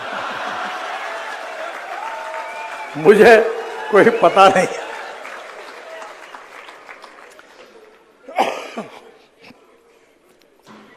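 Audience clapping at the 37th National Convention on Quality Concepts, 2023, heard as several short, loud bursts in the middle and later part, between stretches of a man's speech in a large hall.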